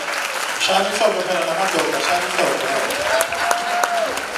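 Audience applause at a youth business awards ceremony, a sustained wash of clapping from a crowd while someone speaks over it.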